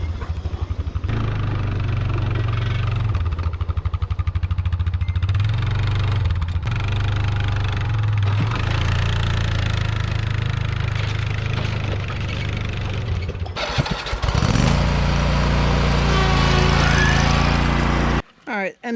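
New lawn mower running steadily while cutting grass in early summer, a loud close engine drone with load changes and a brief pause near the end, with some talk mixed in.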